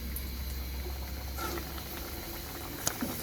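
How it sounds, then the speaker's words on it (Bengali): Luchi deep-frying in a mix of soybean and mustard oil, a steady close bubbling hiss of hot oil throughout with a few faint clinks near the end, no talk. "বেলে নেওয়ার পর আমি সয়াবিন তেলের সাথে কিছুটা সরিষার তেল মিশিয়ে ভেজে নিচ্ছি"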